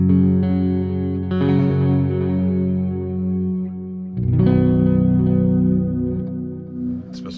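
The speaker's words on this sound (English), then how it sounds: "the clean amp sounds really good, and with the addition of the delay and the reverb" Clean electric guitar chords ring out through a Neural DSP Archetype: Gojira amp simulator, swimming in delay and reverb, with a second strummed chord around the middle and trailing echoes.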